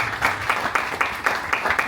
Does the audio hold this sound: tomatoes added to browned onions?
no